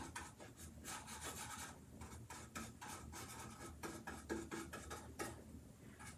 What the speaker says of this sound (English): It's called dry brushing.